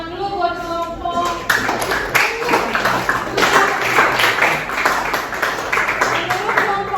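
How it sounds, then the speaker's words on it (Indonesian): Students in a classroom applaud a group after its presentation, a room full of steady clapping with some sharp individual claps, close and sustained for several seconds after a brief spoken lead-in. "Oke, tepuk tangan dulu buat kelompok"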